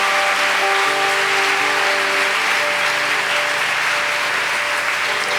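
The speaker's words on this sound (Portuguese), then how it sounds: "Aplauda mesmo, aleluia." Church congregation applauding steadily throughout, a dense, loud wash of clapping with sustained musical tones, likely organ or keyboard, running beneath.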